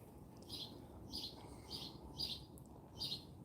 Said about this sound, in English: it's so quiet in the back right now, except for those birds.